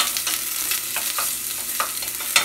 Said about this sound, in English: We're gonna drop our onions. Here's them sizzle.